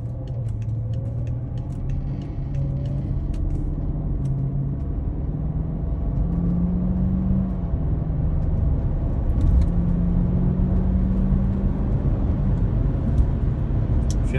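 A BMW 545i E60 with a newly installed ZF6HP26 automatic transmission driving and slowing to a stop, heard from inside as a steady low engine and road rumble with faint whining tones drifting as gears change.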